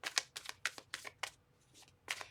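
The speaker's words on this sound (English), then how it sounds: "Two more shuffles." A deck of tarot cards being shuffled by hand, a quiet series of quick riffling bursts in an uneven rhythm with a short pause before a final burst.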